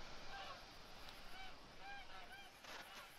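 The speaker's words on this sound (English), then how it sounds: "Is that a geese like engine, or is that like just a goose?" Geese honk at a distance over steady outdoor noise, several short nasal calls spread across a few seconds, faint and with no voices.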